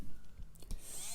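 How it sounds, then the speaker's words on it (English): A small polishing tool works at corrosion on a C64 SID chip, giving a faint, close whirring grind with brief scratchy contacts over about a second. "I have this little polishing tool."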